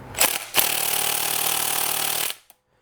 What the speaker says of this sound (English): hopefully the impact with the Torx will do this bolt